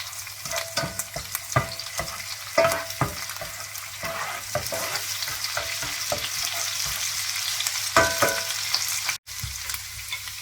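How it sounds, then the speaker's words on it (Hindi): Ginger and garlic frying in oil: steady sizzle with scattered stirring clinks and scrapes, close and continuous, no voices. "30 सेकंड के लिए अदरक और लहसुन की भुनाई करेंगे"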